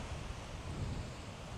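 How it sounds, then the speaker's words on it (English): Strong wind gusting across an open golf course, a steady low roaring rush of air buffeting the microphone throughout, with no voices. "It is windy today."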